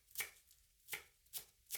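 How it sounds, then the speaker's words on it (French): Knife chopping chives on a board in four crisp, close cuts, spaced irregularly with short quiet gaps between strokes. "J'émince une ciboulette."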